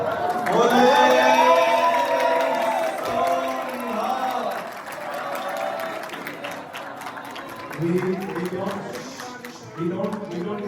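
A Sikh congregation at a turban-tying ceremony shouts a loud collective jaikara, a swelling crowd cry that rises and falls in bursts, with further group shouts near the end.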